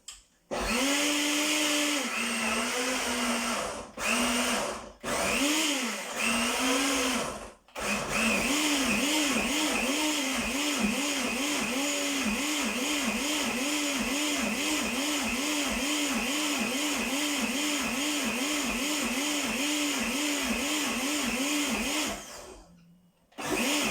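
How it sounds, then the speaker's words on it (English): A brand new blender blitzing fruit for fruit leather, running loud and steady with a rhythmic, pulsing whir. It briefly stops and restarts near the beginning, then runs for about fifteen seconds before shutting off. "It's a brand new blender, first time I've used it"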